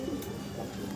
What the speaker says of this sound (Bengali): দুইটা কবুতর অসাধারণ